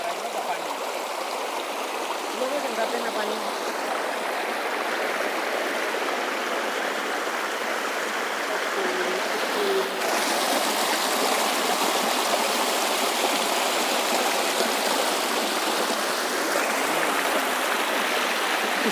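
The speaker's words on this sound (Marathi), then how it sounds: "छोटासा धबधबा टाईप आहे" Water spills out of a channel as a small waterfall on farmland, a steady, close, even rush of flowing stream water with no voices, running unbroken throughout.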